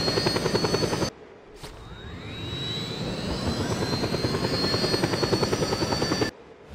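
A helicopter in the video game Just Cause 2 gives a loud, steady rotor and engine roar with pulsing blade chop and a rising whine, briefly cutting out at the start and end.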